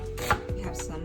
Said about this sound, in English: We'll start with chopping up some onion or slicing some onion.